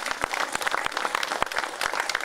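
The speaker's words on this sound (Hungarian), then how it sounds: "egy nagy hangos tapsot az önkormányzatnak hadd kérjek" An audience claps at the opening of a wine and gastronomy festival, a brief burst of fairly loud, scattered applause close by with individual hand claps distinct.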